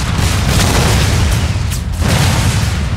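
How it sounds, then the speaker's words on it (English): Mortar shells land in Empire Total War as a dense, continuous rumble of booming impacts with heavy low-end weight. The barrage stays loud throughout, with a brief dip before it swells again. "Here come the mortars. Let's see where it lands."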